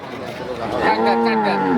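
A Friesian cow at a busy village cattle market gives a single loud, close moo that swells and holds, with faint background murmur around it.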